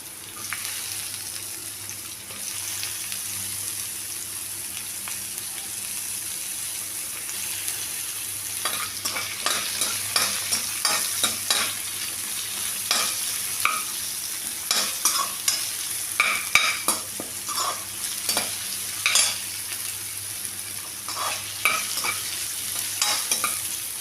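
Onions sauté with green chilies for a crab gravy, a low steady sizzle in a pan. About halfway through, a spoon starts scraping and stirring in busy, uneven strokes close by. No voices are heard.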